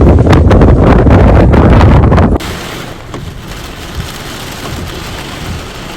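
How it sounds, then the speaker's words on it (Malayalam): Heavy early-morning rain with strong wind in the UAE pours in a dense, loud roar, then drops abruptly to a softer, steady patter. "ഇന്ന് വെളുപ്പിന് ശക്തമായ കാറ്റും മഴയും എല്ലാ എമിറേറ്റ്സിലും അനുഭവപ്പെട്ടു"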